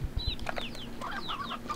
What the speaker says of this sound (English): Stony hen.